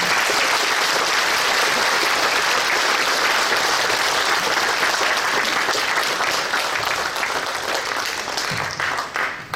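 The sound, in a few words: church congregation applauding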